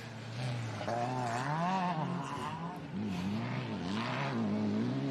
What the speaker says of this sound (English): 800 horsepower of twin turbo Nissan pushing that Illumicraft torque convert 5-speed Albans box